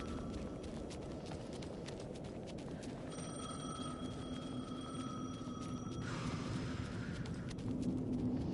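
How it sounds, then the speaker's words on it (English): A telephone rings faintly in a room, a thin steady electronic tone lasting a few seconds over a busy background of low rumbling noise, with no one speaking. "The phone again."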